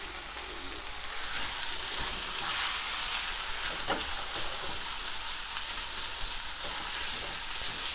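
Spaetzle fries in oil with fresh herbs, giving a steady, moderately loud sizzle throughout, with faint stirring scrapes and a small clatter midway.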